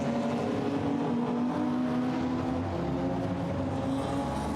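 A BMW M3 GTR race car from Melkus Motorsport drones at Zandvoort after spinning, its engine a steady distant roar that holds for several seconds with no commentary over it.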